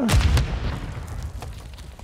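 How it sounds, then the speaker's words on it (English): A grenade explodes in a first-person shooter video game: one deep, muffled boom at the very start, followed by a fading low rumble. "Somebody oh, just threw a grenade."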